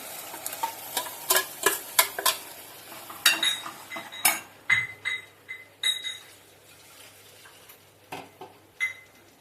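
Black-eyed peas tipped into a pan and stirred with a metal spoon, giving a close series of sharp scraping clinks and taps against the pan over a faint sizzle, with no talking.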